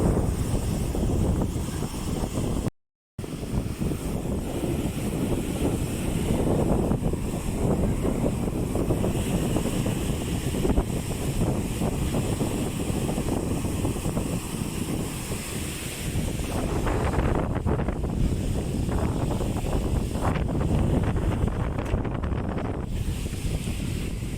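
Strong wind and rough sea waves roar continuously at a fishing coast in bad weather, with heavy wind buffeting on the microphone and no speech.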